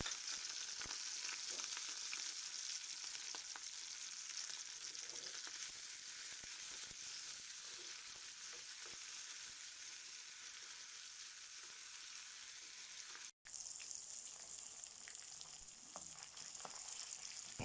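Bone-in chicken pieces for chicken karahi fry in a pan, a steady close sizzle and hiss running throughout with light stirring, no talk.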